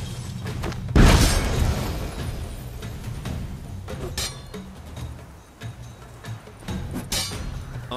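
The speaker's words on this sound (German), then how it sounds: "Gwen wird die Explosion dämpfen" A sharp bomb blast bursts out early and its rumble fades, followed by scattered clinks and smaller thuds, in the video game The Witcher 3: Wild Hunt.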